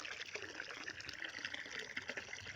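Water flowing steadily at an outdoor washing and bathing spot, a constant close splashing rush with no voices.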